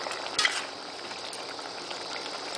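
A drumstick, egg and tomato curry bubbles and simmers in a pan, giving a steady close hiss of small pops and sizzles, with a brief louder clatter near the start.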